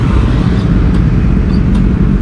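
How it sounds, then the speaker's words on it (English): Kawasaki ZX6R inline-four sport motorcycle with an Akrapovic exhaust riding along, a loud, steady engine drone with continuous road and wind rumble, close and unbroken, no talking. "we will be riding the Kawasaki ZX6R"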